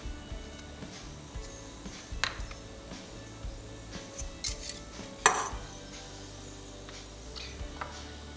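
Eggs, sugar and vanilla extract being mixed in a bowl: quiet, scattered clinks and soft scrapes of a utensil against the bowl, with one sharper tap near the end and no talking.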